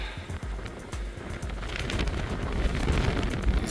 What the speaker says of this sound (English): it's a bit out of the wind at the moment, but occasionally